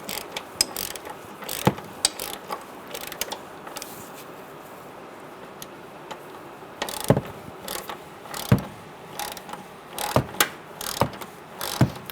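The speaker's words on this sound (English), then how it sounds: "I'm going to use a 12mm socket, and I'm going to loosen this up" A ratchet with a 12mm socket loosens a rusty bolt in the front wheel well of a 2014-2018 Subaru Forester, with bursts of sharp clicking and pauses between them, close and with no talk.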